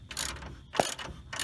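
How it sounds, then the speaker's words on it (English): A ratchet tightens a spring compressor on the front coil spring of a G-body car, giving two or three bursts of rapid mechanical clicking with a sharper clack in the middle, up close in a garage. "so now we're back to tightening up the spring"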